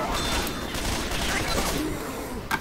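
Gunfire in the zombie shooter Left 4 Dead 2, a dense continuous barrage of shots filling the whole moment, loud and busy with a sharp burst near the end.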